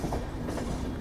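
Ajmer–Agra Fort train pulling into Phulera Junction, a steady close rumble of rail cars rolling over the track with no pauses.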